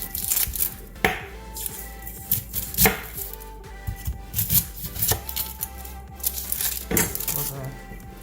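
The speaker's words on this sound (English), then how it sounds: "I'm going to also cut up an onion" A knife chops an onion on a cutting board in quick, uneven runs of sharp taps, close and crisp, with no talking.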